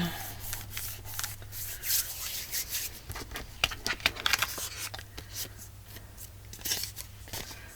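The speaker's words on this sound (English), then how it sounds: "We can trim it off wherever it needs to be trimmed." Scissors snip and rub through scrap material in a steady run of quick, crisp cuts, moderately close, with a low hum underneath and no talking.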